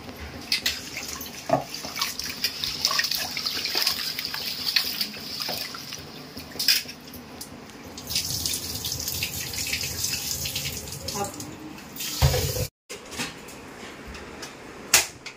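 Tap water runs steadily into a kitchen sink while rice is rinsed by hand, with splashing and clinking from a vessel under the stream. The flow cuts out briefly near the end, then resumes.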